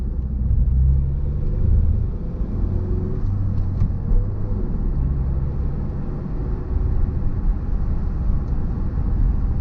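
A 1998 Ford Focus Ghia with a 1.6-litre 16-valve 100 hp four-cylinder Zetec engine on the move gives a continuous low engine drone and road rumble from inside the car, steady and fairly loud with no speech.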